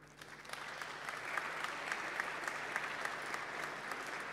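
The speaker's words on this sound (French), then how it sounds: "Vous pouvez les applaudir." An audience at a Station F demo day event applauds, a steady wash of clapping heard from a moderate distance without speech.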